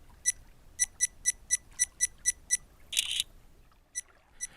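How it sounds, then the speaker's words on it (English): An action camera in burst mode, taking 3 pictures in a row, sounds as a run of about ten crisp, evenly spaced high clicks or beeps. One longer, noisier burst follows, then two more isolated clicks, all close and clear against near silence. "There is a burst mode that takes 3 pictures in a row."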